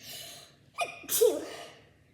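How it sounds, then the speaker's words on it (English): A sharp intake of breath, then a single loud sneeze up close, trailing off into quiet. "I'm gonna sneeze."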